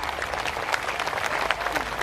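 An audience at an Islamic gathering in the courtyard of the Klaten police headquarters claps steadily, a continuous crowd applause at moderate volume with faint voices mixed in.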